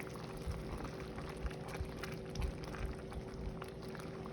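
Pumpkin risotto simmers in a pan as broth is added, a quiet, close bubbling with soft irregular pops and faint liquid sounds.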